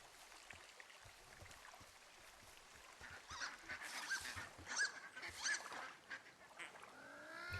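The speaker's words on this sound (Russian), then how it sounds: "там утки крякают" Ducks quack in the forest of the game Firewatch, a cluster of fairly faint, scattered calls in the middle of the clip over steady outdoor ambience.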